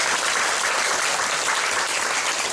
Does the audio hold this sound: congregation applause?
yes